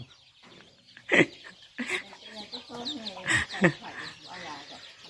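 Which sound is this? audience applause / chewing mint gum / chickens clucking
chickens clucking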